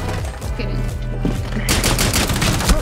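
Gunfire in Rainbow Six Siege, heard as dense, continuous rapid shots and impacts, loud and close, growing harsher partway through, with no talk over it.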